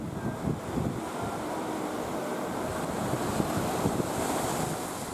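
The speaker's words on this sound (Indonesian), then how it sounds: "Angin kencang disertai gelombang tinggi menghantam puluhan perahu sehingga banyak perahu yang bocor." Strong wind roars and high surf pounds steadily against dozens of fishing boats on a beach in southern Papua, a dense, continuous rush of waves and gusting wind with no voices.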